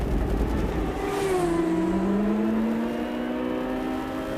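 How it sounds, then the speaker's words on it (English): A 2004 IndyCar race car engine at Laguna Seca, loud and close, its high whine rising and falling in pitch as the car slows and shifts, with no voices over it. "And we watch as Allmendinger then brought the car down to pit road"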